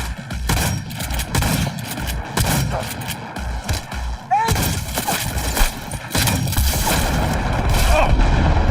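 Gunfire from the video game Cyberpunk 2077 during an attack on corporation forces, with dense repeated shots and heavy booms throughout, loud and continuous.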